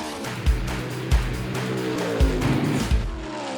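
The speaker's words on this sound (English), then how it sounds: "It's a real full-scale Indy race car with no driver." A full-scale driverless autonomous Indy race car drives, its engine a dense continuous roar with several low thumps recurring about every second, and no voices over it.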